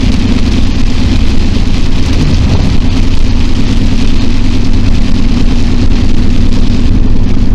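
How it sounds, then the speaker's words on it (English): Heavy storm rain pours down steadily and loudly in a dense, continuous hiss, with a low rumble underneath and no voices. "It was storming. And it's still storming pretty good right now."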